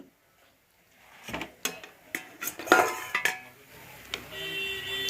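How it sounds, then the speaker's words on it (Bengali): A cooking pot lid is handled with a series of sharp metallic clanks and scrapes, close and fairly loud, as rice for a rohu fish and papaya biryani cooks on a gas stove; a faint steady hiss lingers at the end. "ঢাকনাটা খুললাম"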